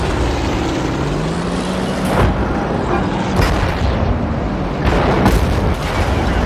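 Heavy tank cannon fire in World of Tanks, with several booming shots spread across the stretch over a dense, constant roar of engine and battle noise, with no talk.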